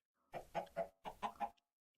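A single chicken in the modded Minecraft pack All the Mods 10 clucks six times in two quick groups of three, close and clear with no other sound around it.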